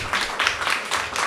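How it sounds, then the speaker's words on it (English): An audience applauding after Jane Owen is introduced at a master-class event, a brief burst of fairly close, rhythmic clapping in pulses. "please give her a big round of applause"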